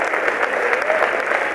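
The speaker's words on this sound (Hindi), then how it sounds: "जोरदार एक बार तालियां बजाए साहब।" An audience breaks into loud, dense applause at a community stage event, steady clapping for under two seconds without voices on top.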